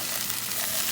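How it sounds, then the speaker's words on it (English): Polish sausage with onions and browned potatoes sizzles in a very hot pan, a close, steady hiss of frying that holds even and bright for the whole moment, with no talking. "And you can hear it sizzle."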